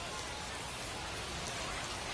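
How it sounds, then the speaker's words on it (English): Steady, dense rain hisses evenly throughout, with no breaks, falling over a baseball video game. "Raining cats and dogs"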